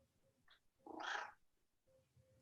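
A cat gives a single drawn-out meow, fairly faint and indoors, between stretches of quiet room tone with a brief squeak just before it.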